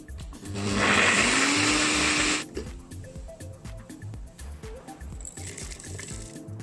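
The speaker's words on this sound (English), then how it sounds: "It's gonna go and sit on the blender machine and get it into a paste." A blender grinds shallots into paste, whirring loudly for about two seconds, its motor pitch settling steadily, then cuts off, leaving quieter kitchen clatter and a brief second burst of whirring.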